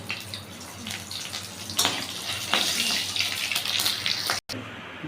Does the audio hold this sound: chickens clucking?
no